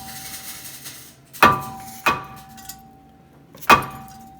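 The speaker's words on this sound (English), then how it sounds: "This time I'm going to hit the rotor with the dead blow." A dead blow hammer strikes a front brake rotor on a 2010 Hyundai Sonata three times, each a sharp close metallic thud with a brief ring, spaced irregularly over a faint steady hum.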